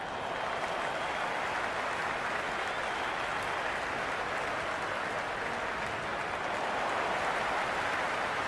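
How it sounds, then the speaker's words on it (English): Steady, dense roar of a stadium crowd cheering in the cricket video game Cricket 26, an India vs Ireland match, sustained and loud without letup throughout. "The spectators are absolutely buzzing right now"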